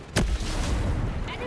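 A grenade goes off in Ghost Recon Breakpoint combat as one sharp, close boom that rings out briefly over the din of battle.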